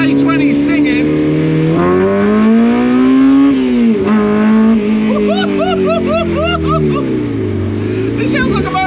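A Honda K20 engine swapped into a 1971 Mini Clubman revs hard from inside the cabin, its pitch climbing, dipping and surging again with a raspy, motorbike-like wail, while a voice talks over it.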